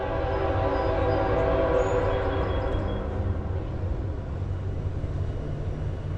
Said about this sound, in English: As a coal train would be fairly appropriate right about now, wouldn't it? Watch it be a freight though.